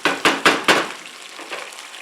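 Tomato sauce in a pan bubbles and sizzles, with four sharp bursts of spitting as it is stirred, then settles into a quieter, softer simmer.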